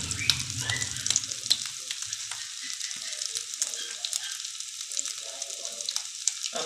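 Boiled potato tikki patties frying in a pan over medium heat, a steady close crackling sizzle with occasional stirring clicks.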